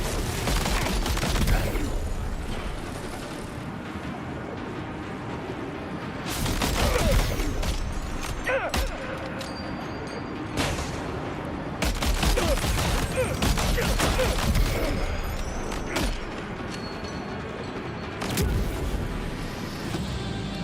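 Gunfire in the video game Death Stranding 2: repeated volleys of shots and sharp bangs, some close and loud, with mechanical clatter and no talking.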